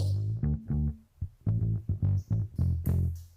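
A drum kit captured through a Coles ribbon microphone, with punchy, slightly distorted kick and snare hits in an irregular groove, close and loud, plus crisp cymbal splashes near the end, no voices.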